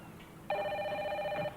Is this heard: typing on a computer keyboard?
no